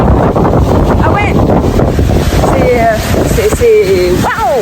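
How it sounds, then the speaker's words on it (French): Light wind buffeting a microphone outdoors in Japan, a constant close rumbling blast with a few faint higher tones and a voice talking over it. "Il y a vraiment un petit vent léger."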